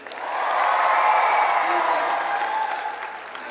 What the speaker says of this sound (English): Round of applause for Abby.